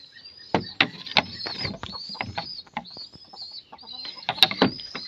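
A young Aseel stag gamecock clucks in a series of short, uneven bursts, fairly close and alone, with a few rustling and flapping sounds between calls.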